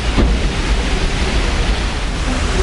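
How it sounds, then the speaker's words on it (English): Rain pours onto the water surface in a dense, loud, continuous hiss and patter, close and unbroken, with no voices. "Hear it hitting the water? That's the rain hitting the water."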